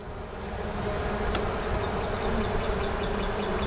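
Honeybees in an open, strong hive during an early April spring inspection, a dense, continuous buzzing swarm close by, steady and fairly loud, with no talking.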